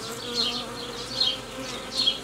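Honeybees buzz steadily inside a Nicot queen-rearing box, a close, even hum with three soft swells as insects move about near the comb foundation.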